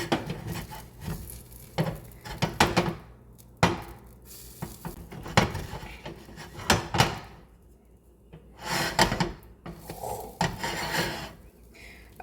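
A spatula scraping and flipping sourdough protein pancakes that stick in a buttered pan, a series of sharp knocks and scrapes in irregular bursts, close and fairly loud.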